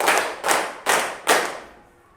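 A classroom of students claps in unison to a counted pattern, four crisp group claps in steady rhythm, the last one ringing out and fading into quiet.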